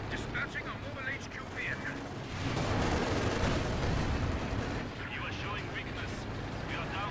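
Rocket artillery fire and explosions from a Company of Heroes 2 battle, with a Panzerwerfer-style launcher claiming a kill; a dense, loud rumbling barrage of blasts swells midway and continues under intermittent game voice lines.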